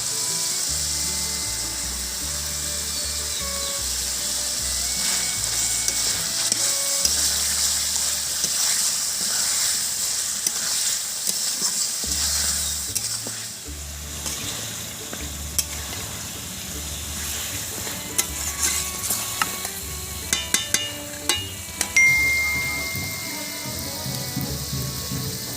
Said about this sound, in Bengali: এবার পেঁয়াজ ভাজা বাটাটা আমি দিয়ে দেব